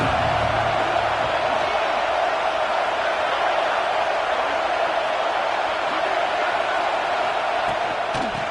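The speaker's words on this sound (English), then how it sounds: "This crowd ready to make its presence known." Stadium crowd noise from an NCAA college football video game, a loud continuous roar of massed cheering that holds steady throughout, with no clear speech over it.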